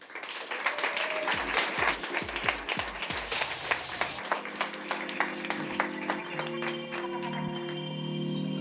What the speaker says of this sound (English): So please give an applause to Matthäus Michalik, co-founder of Planeo